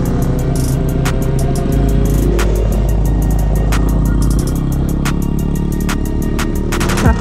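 A Yamaha Aerox scooter being ridden, its small engine droning steadily and loudly throughout with a shift in pitch partway, plus brief clicks and rattles over the top; no voices.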